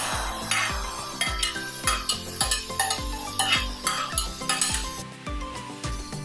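A spatula scrapes and clatters rhythmically against a pan as bell peppers, green chilies and boiled peas are stirred, with a soft sizzle underneath.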